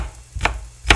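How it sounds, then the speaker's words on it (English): Two sharp knife strikes on a cutting board, chopping garlic cloves into smallish pieces for a lamb stew, spaced about half a second apart, close and fairly loud with quiet in between. "Garlic, I don't need to cut too much"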